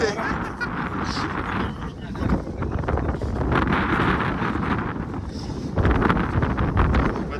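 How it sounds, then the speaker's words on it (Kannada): Strong wind gusts buffet the microphone on a rainy hilltop at Mullayanagiri, a steady broadband roar that swells and dips throughout, with faint voices now and then beneath it. "ಮಳೆ ಇರುತ್ತೆ ಸ್ವಲ್ಪ ಜೋರ ಗಾಳಿ ಬೀಸುತ್ತೆ"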